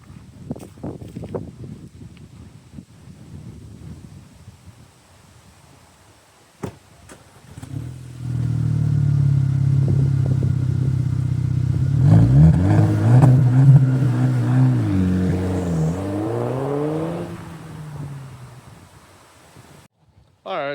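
A 2.0 TFSI engine in an Audi B8 A5 fitted with a new downpipe starts and idles with a deep, moderately loud exhaust drone, then revs up and settles back outdoors. Wind buffets the microphone and a person talks early on.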